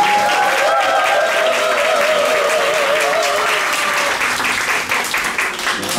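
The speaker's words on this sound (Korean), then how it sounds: "큰 박수로" Loud, dense applause from a church congregation during a Sunday service, continuous clapping throughout with sustained tones beneath, thinning slightly near the end.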